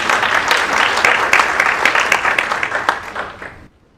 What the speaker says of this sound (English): So can we have a big round of applause for Tuhin?